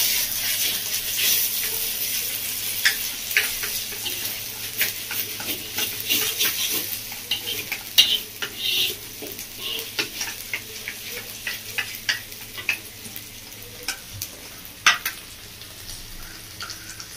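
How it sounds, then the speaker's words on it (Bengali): A spoon clicks and scrapes steadily against a bowl as coriander and turmeric powder are mixed into yogurt for chicken curry with mint, making close, irregular ticking strokes. "তো মশলাটাকে দইয়ের সাথে মিশিয়ে নেবো ভালো করে।"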